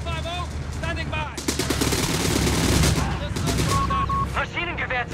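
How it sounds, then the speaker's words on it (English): Battlefield gunfire in the World War II strategy game Company of Heroes 3, Afrika Korps multiplayer: a sustained, loud fusillade of rapid shots and bursts, with game voices calling out over it at the start and end. "Those troopers are firing!"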